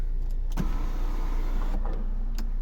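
The sunroof of a 2011 Volvo V60 D4 2.0 diesel with automatic gearbox opens with a steady electric motor whir inside the cabin, bracketed by short clicks at its start and finish, close and moderately loud, with no voices.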